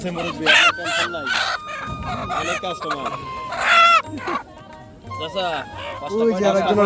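Chickens cluck and a native rooster crows amid a busy riverside market selling fish, poultry and vegetables, with people talking loudly over the birds throughout.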